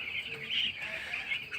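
Broiler chickens cluck and cheep inside a poultry shed, a busy overlapping chorus of high, chirpy calls that rises and falls without a break.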